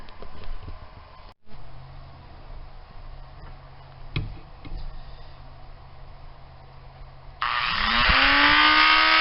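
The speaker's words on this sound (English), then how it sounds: "So I'm going to pull that ring out and trim it with the Dremel." A Dremel rotary tool trims a piston ring during a 5.3 Vortec V8 engine rebuild. A quiet workshop hum with a few small clicks is followed by the tool whining up loudly for the final two seconds.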